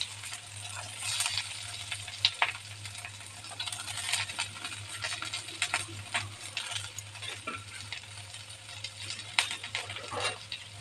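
Onions fry in two spoons of oil for karunai kilangu kulambu, giving a faint, steady crackling sizzle with scattered small pops and light stirring clinks beneath a low background hum.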